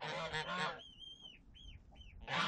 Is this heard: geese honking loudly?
yes